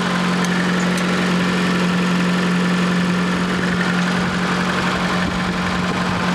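Fiat Panda 4x4 engine idling after timing belt work, a loud, steady close-up hum with constant low vibration and no speech.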